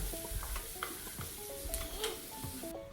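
Crushed ginger and garlic sauté in a pan for a Kerala dosa chutney, giving a steady close sizzle with repeated scrapes and clinks of a stirring spoon throughout, no voices.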